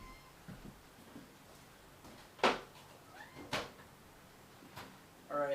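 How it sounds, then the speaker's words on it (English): A hungry house cat meows several times while waiting to be fed, giving short, fairly close cries at irregular intervals over quiet room background with faint knocks. "I'm tired of hearing Marlo whine, so it's time to feed the cat"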